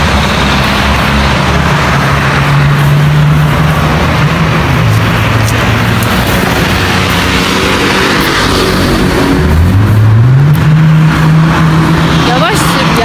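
A car driven fast, its engine roaring loudly and steadily throughout with rising pitch sweeps as it revs, while people talk over the noise inside.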